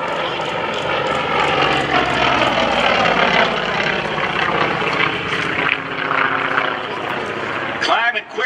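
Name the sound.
Nanchang CJ-6A propeller aircraft diving at an air show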